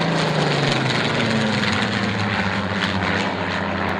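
Piston engines of a B-17 bomber at Duxford drone loudly and continuously, a deep propeller throb with a slowly shifting pitch, heard close and alone.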